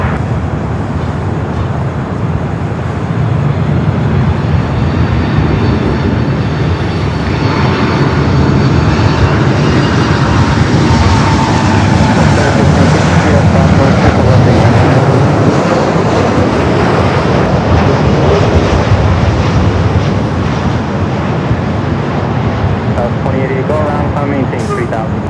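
Jet engines roar loud and sustained as an airliner goes around at Los Angeles International Airport, the broad rumble swelling and slowly fading while someone talks over it.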